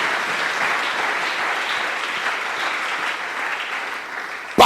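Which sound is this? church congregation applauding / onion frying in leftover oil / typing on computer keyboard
church congregation applauding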